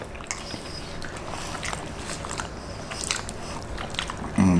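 Warm tortilla chips with green salsa being bitten and chewed up close, a run of crisp crunches and crackles repeating at an irregular pace, loud and near with no talking.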